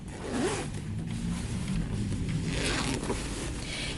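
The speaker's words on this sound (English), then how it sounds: "I'm going to open my zipper" A clothing zipper being opened on a sewn dress, with steady close rustling and scraping of the zipper and fabric running continuously throughout.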